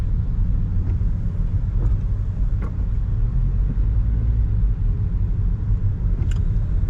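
A car drives through 6 to 7 p.m. evening traffic in Macau near the Cotai Strip, giving a loud, steady low engine and road rumble with faint passing-vehicle sounds and no talk.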